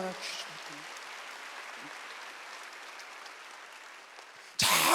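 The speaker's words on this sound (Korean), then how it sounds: "박수를 하세요." A church congregation at a Wednesday service claps in sustained, moderately distant applause, with a voice briefly at the start and a sharp loud burst at the end.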